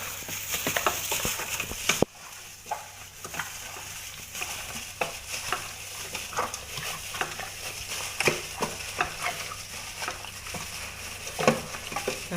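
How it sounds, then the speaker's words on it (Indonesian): Frying food is stirred in a pan as salt, MSG and powdered stock are mixed in. A continuous sizzle runs under repeated spatula scrapes and knocks against the pan, close and steady, with no talk. "kita aduk lagi sampai dia rata ya"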